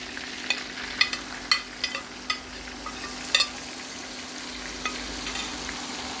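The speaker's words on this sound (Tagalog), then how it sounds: "After frying all the sides, let's add our remaining sauce from our marination" Marinade sauce poured into a pan of stuffed chicken already frying on all sides, a steady loud sizzle with scattered sharp pops and crackles throughout, no voices.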